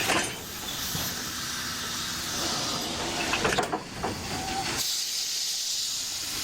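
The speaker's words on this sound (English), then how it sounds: "The parallel track allows the engine to steam past the passenger cars to the opposite end." A steam locomotive on a parallel track releases a loud, sustained hiss of steam, with rumbling mechanical bursts midway before the hiss thins and continues steadily to the end, no voices.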